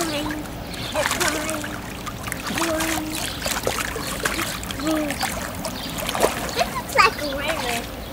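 A dog named Marquise swims laps and splashes in a new pool, with intermittent close water sloshing and splatter heard under frequent, excited talk from a nearby person.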